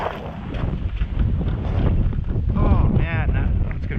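Strong wind gusts buffet the microphone outdoors on a hike, a loud, rough rumble that swells and eases throughout.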